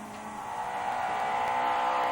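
Driven by Stuart Barrow on a 1997 Jersey Rally stage, a rally car with a 2.1 litre engine holds a steady, loud engine drone as it passes. Some tyre noise runs under the engine, and no voices are heard.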